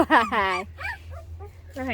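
Stray dog and her puppies out on a hill, with whimpering and yipping puppy cries heard close up between bursts of people talking.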